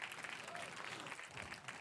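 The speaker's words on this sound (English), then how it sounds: "Round of applause for yourselves." A small audience at an interview event claps for themselves, a soft, fairly distant patter of applause that holds steady through the brief moment.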